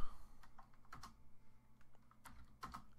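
Fast typing on a computer keyboard during a multiplayer survival game, with irregular clusters of light clicking keystrokes close by and no talking.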